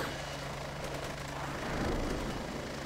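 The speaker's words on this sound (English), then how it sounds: "cute little helicopters like this also have a purpose" A small scout helicopter in the video game Heliborne gives a steady, fairly loud rotor and engine drone that swells slightly toward the end, with no talking.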